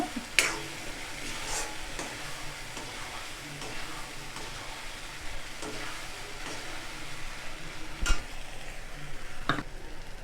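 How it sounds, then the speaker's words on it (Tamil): Onion, tomato and ground masala are stirred in oil in a pan for an egg and drumstick aviyal, giving a soft continuous sizzle broken by spoon scrapes and a few sharp taps against the vessel. "நல்லா இந்த வெங்காயம் தக்காளி அந்த எண்ணெயில் நல்லா கலந்து விட்டுருங்க"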